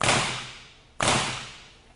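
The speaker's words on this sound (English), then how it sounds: "you should be able to hear a pretty loud bang when the gun goes off" Two sharp, loud bangs about a second apart from a Model 98 paintball marker fitted with an e-bolt, each a sudden crack that quickly fades into a short ringing decay, with no talking.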